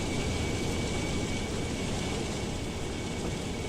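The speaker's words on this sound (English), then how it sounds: "That's a 777, a very nice Boeing jet." Boeing 777 jet pushing back in a flight simulator game: a steady, loud broadband engine roar that holds evenly throughout without pauses, heard alone.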